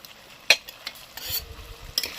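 Potatoes are stir-fried in a pan for a Bengali potato and cauliflower curry with lentil fritters, heard as soft frying crackle punctuated by a few sharp spatula scrapes and clinks against the pan, close and unaccompanied by speech.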